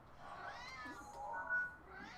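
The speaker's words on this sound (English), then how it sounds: "did I hear the cat?" A house cat lets out a couple of soft, drawn-out meows, faint and somewhat distant against quiet room noise.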